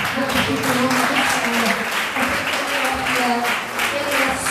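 Church congregation applauding during a Portuguese-language worship service, a dense, steady wash of clapping that fills the whole stretch at close range, with a voice and music faintly underneath.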